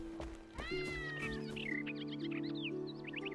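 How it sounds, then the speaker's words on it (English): A cat meows repeatedly in the survival game Enshrouded, rising wavering calls over a steady tonal game music bed, close and clear with no talking. "I heard a meow."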